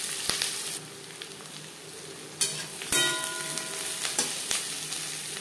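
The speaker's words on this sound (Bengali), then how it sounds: "তিন চার মিনিট পেঁয়াজ হালকা করে ভেজে নেওয়ার পর" Chopped and ground onions fry lightly in a pan with a steady close sizzle, interrupted by a few sharp clicks and metallic scrapes of a spatula stirring, fairly quiet overall and without talk.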